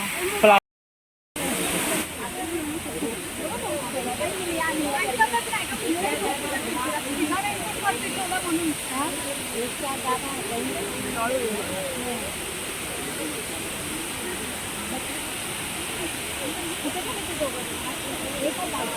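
Excess rainwater overflows in Powai Garden, Mumbai, making a steady, broad rushing hiss that runs unbroken after a brief dropout at the start.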